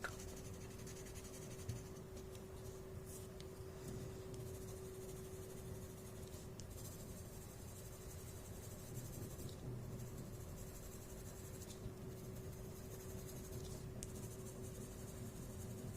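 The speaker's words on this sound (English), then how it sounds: "Just adding graphite on one side." Graphite pencil shading on paper in a Zentangle drawing, a steady soft scratchy rasp lasting throughout, quiet and close, with a low constant hum underneath.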